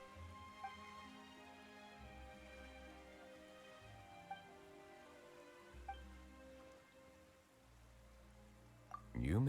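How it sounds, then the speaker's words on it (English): Rain falling in the video game Honkai: Star Rail, a soft steady patter of drops over layered tonal game music, with a few brief ticks and a louder burst at the very end. "Why is it raining all of a sudden?"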